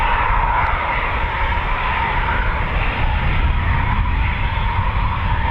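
A military fast jet at RAF Coningsby roars loudly and continuously during a performance takeoff, a dense engine rumble with broad hissing thrust that holds steady throughout.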